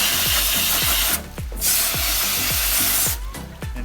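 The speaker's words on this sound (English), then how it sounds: "the rest, I take a hose and then just rinse it" A garden hose rinses water over a cleaned blue crab, a close, steady hissing spray with a repeated rhythmic clicking underneath, briefly dropping out twice as the stream moves.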